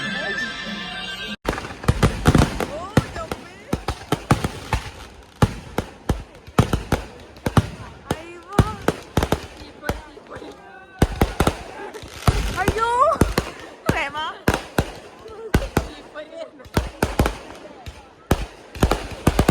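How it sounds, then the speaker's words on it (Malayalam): Fireworks at a temple pooram festival near paddy fields in Kerala, a rapid barrage of sharp cracks and booms that keep coming in dense bursts for nearly twenty seconds, loud and close, with faint crowd sounds between explosions. "ഞങ്ങളിപ്പോ വെടിക്കെട്ടിന് വേണ്ടിയിട്ട് ഞങ്ങൾ പാടത്തിന്റെ അവിടെ വന്നിരിക്കാട്ടോ."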